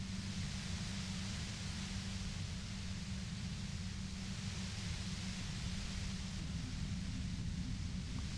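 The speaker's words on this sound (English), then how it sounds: "I just want this white noise to stop so I can have the upper hand with 2 guns" A broken compressor in a video game gives off an unbroken wash of white noise, a steady faint hiss with a low droning hum underneath that never changes.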